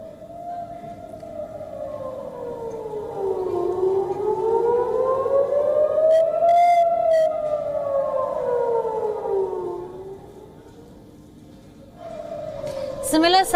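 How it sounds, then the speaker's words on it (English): A civil defense air raid siren wails over Ashkelon, Israel, during rocket fire, its pitch slowly rising and falling in long sweeps, steady and fairly loud with a brief dip before starting up again. "Sirens were heard, explosions seen above the Israeli city of Ashkelon just minutes before the"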